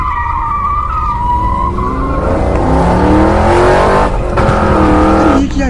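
A car in the game Free Fire speeds away with a loud, sustained engine roar and squealing, skidding tires that rise and swell over several seconds, close by with no talking.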